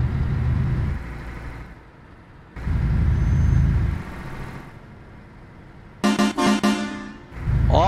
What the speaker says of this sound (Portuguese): Olha o som dessa Scania